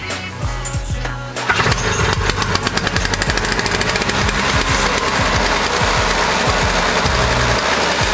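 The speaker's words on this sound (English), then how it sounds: "Started on the first pull." An eight-year-old Toro CCR 2450 snowblower engine fires on the first pull with the choke on full, a brief cranking rattle then a loud, fast, choppy putter settling into a steady close idle.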